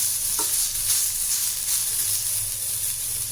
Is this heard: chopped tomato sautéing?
yes